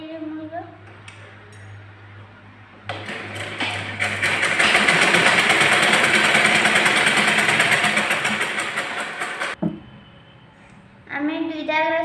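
An electric sewing machine stitches a simple 30-inch blouse in one loud, steady run of about seven seconds, with quieter moments and a voice before and after.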